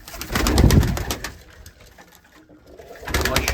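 Pigeons coo in low, throaty bursts close by in a coop, with soft rustling and fluttering around them and a brief lull before the cooing resumes.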